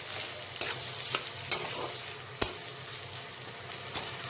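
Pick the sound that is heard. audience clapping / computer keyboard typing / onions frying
onions frying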